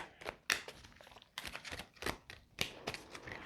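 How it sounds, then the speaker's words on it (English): Oracle cards, slippery ones, shuffled by hand: a run of sharp riffling bursts and flicks, close and fairly quiet, separated by short gaps, with no talking. "These cards are so slippery, it's hard to shuffle them without like them flying out all over the place."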